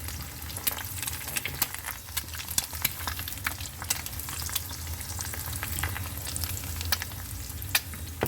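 Eggs frying in a pan with a pinch of salt: a constant close sizzle with frequent light scraping stirs and small ticks from the spatula, no one speaking.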